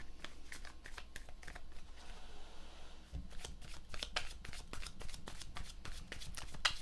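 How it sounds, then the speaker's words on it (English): Tarot cards shuffled by hand, close and quiet, a steady run of crisp riffling bursts repeating throughout with soft papery slaps and no talking. "let's pull some cards on Justice and Temperance."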